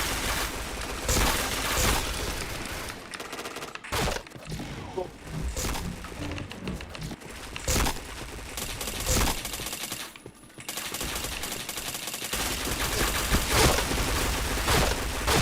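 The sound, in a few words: gunfire in a video game (RR)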